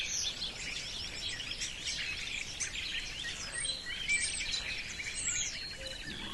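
Several birds chirp and sing in a forest, overlapping high calls running steadily throughout at moderate distance, with no voices.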